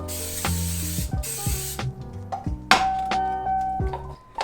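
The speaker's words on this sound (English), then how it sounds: "They actually make coconut oil Pam" Short bursts of cooking spray hiss into a frying pan, a couple of broadband sprays early on amid clinks and kitchen handling sounds, close and fairly loud with no talking.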